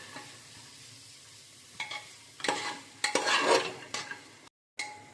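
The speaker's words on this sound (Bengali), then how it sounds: "এবার এটাকে আমি ভালো করে ভাজবো যতক্ষণ না মশলাগুলো চানার গায়ের মধ্যে লেগে না যায়।" Chickpeas frying with spices in a pan, quiet sizzle broken by several scraping stirs that build to a louder burst, then a brief silence and one more scrape.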